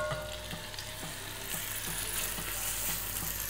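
Veal pieces with garlic and onions browning in a hot pot for a blanquette de veau, giving a steady, close sizzle and frying crackle with occasional stirring scrapes and no talk.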